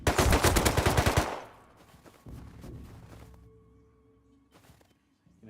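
Rapid automatic gunfire in the survival game Rust, a loud dense burst of shots lasting about a second, then fading into quieter thuds, scattered clicks and a faint electronic tone.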